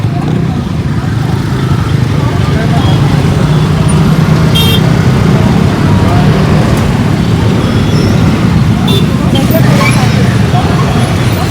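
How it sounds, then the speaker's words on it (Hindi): Loud, dense road traffic of buses, cars and motorcycles roars continuously close by, with occasional faint horn toots and voices in the mix. "गंदा वाला ट्रैफिक है भाई।"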